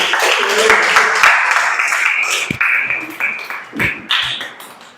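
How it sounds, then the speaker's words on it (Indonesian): Classroom applause after a student group presentation, a loose scatter of hands clapping with irregular sharp taps that thin out and fade over a few seconds, with faint voices underneath. "Beri tepuk tangannya."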